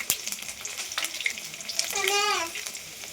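Garlic hits hot oil with a close, crackling sizzle and some quick spoon clicks, joined midway by a short wavering tonal squeal before the frying settles into a steady hiss.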